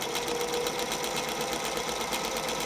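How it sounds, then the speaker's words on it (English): A sewing machine runs steadily while stitching a 3/8-inch seam allowance on a fabric curling rod, a loud, continuous fast mechanical whir with no pauses. "I'm going to sew 3/8 of an inch seam allowance"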